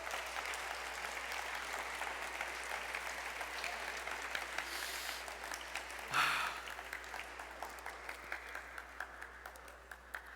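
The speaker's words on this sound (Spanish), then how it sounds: "Dale un fuerte aplauso a la presencia de Dios." A church congregation claps together during a Spanish-language sermon, soft rolling applause that thickens briefly and then settles into slower, more distinct claps near the end.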